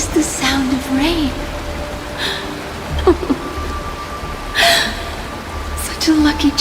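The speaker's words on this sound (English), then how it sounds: "This is the sound of rain." Steady rain falls in a Honkai: Star Rail cutscene, a soft constant wash running under characters speaking throughout.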